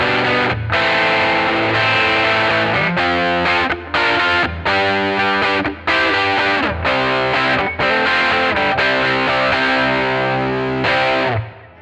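An electric guitar plays through a Magnatone Deluxe61 vintage small combo amp with a driven, distorted tone, with strummed chords and sustained notes ringing steadily with brief breaks between phrases.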